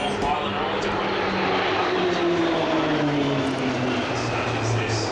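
Roulettes aerobatic team aircraft performing at the Avalon Airshow, a steady loud engine drone with slowly falling pitch as the planes pass overhead, continuous throughout.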